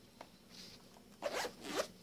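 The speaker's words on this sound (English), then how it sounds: "zips up all nice and neat." A zipper being pulled closed on a zippered pencil pouch, a quiet close-up scratchy run with a couple of faint ticks first, then two louder zipping strokes near the end, heard on its own.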